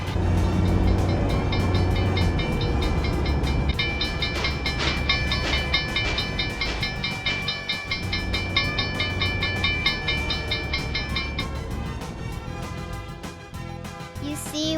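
A cartoon train rolls past a railroad crossing, its loud, continuous rumble and clatter overlaid with bright tonal music and ringing tones throughout, staying strong from start to finish.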